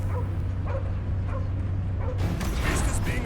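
A dog barks and yips in repeated bursts in the video game Guardians of the Galaxy, loud and close over a low steady hum, with a noisier clash of game sounds near the end.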